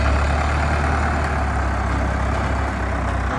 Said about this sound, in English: Sounds like Blake's truck.